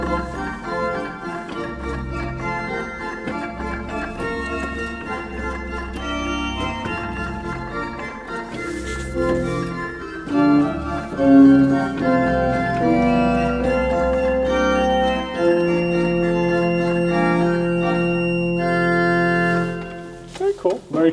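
Pipe organ sounding its principal 2 stop combined with an 8-foot stop, sustained chords and a moving melodic line held steady at full volume, ending with a few brief detached notes.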